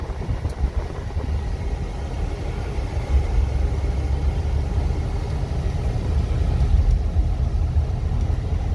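A 1978 Dodge Aspen Custom sedan with a V8, factory muffler and resonator, driving with only a soft, steady low engine rumble and road drone that swell slightly over time, with no voices.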